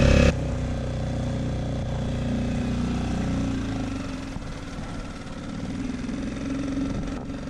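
An outboard boat motor on a sailing trip catches after a single pull start at about half throttle, then runs on in a steady, fairly loud idle-like drone for several seconds, close up and with no talk.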